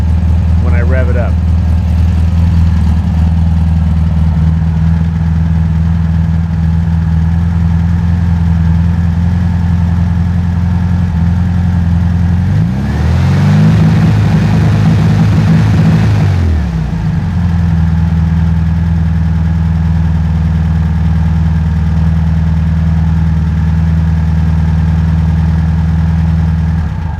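A 1969 VW Beetle engine with distributor trouble idles with a steady low throb, briefly revs up and settles back to idle midway, close and loud.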